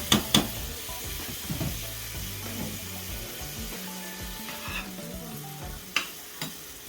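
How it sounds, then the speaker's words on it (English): Sliced potatoes and carrots frying in butter in a pan over medium heat, a steady low sizzle with a few sharp clatters at the start and near the end. "I have some butter in this pan being heated on medium heat"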